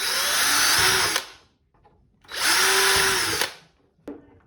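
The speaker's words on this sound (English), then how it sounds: "Then it's a case of making 2 pilot holes." Power drill boring pilot holes in plastic armour, two loud whirring bursts of about a second each separated by a pause, close up with no talk.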